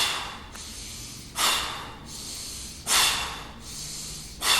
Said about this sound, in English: So you're breathing in through your nose and you're pushing the breath out of your mouth.